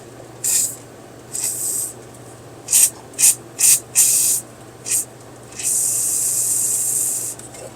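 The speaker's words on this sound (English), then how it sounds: "I'm going to spray PB Blaster through this up there" Several short hissing spray bursts of PB Blaster penetrating oil in an uneven rhythm, ending in one longer sustained spray from the aerosol can, close by, on a 1964 Ford Falcon Sprint.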